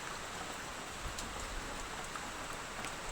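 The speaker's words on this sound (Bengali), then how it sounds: "তো দেখো ঝমঝম করে বৃষ্টি হচ্ছে।" Heavy rain pours steadily and evenly, a dense hiss of drops hitting surfaces close by with no pauses and no voices.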